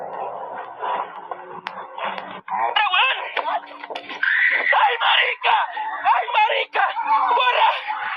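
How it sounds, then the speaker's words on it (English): A woman screams loudly and shrilly in sustained bursts amid a clamor of other voices, with cries and laughter mixing into a dense, agitated group noise that rises toward the end. "she screams out loud, causing the whole group to run from the area"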